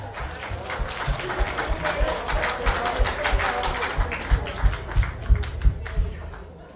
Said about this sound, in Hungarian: Tapsoljuk meg a vőlegény urunkat.